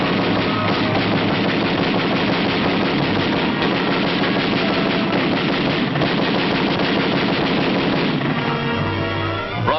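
Loud, dense machine gun fire rattles in rapid continuous bursts during a jungle battle in a 1944 war film, an unbroken barrage of shots that eases slightly near the end.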